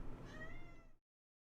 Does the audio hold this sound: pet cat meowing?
yes